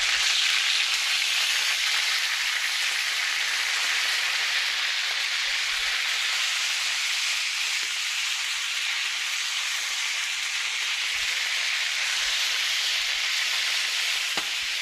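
Chicken thighs fry in a pan with a steady, dense sizzle that holds loud and even throughout, broken only by occasional faint pops and spatters.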